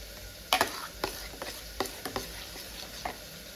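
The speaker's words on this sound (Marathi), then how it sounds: "आता हे थोडीशी फेटून ते थोडंसं पाणी टाकून आपण टाकायचे फोडणीमध्ये" A pan of tempering for dal takes a spatula's stirring, with sparse sharp scrapes and taps over a faint sizzle; close, fairly quiet, no talk.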